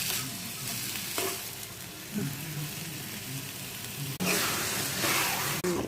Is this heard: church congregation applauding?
no